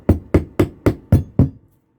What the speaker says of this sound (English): So I have my wee soft hammer. I'm going to tap this down.